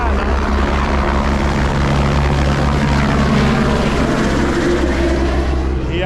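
A gunship helicopter flying over Las Vegas drones loudly and continuously with a steady rotor hum, heard close and alone throughout.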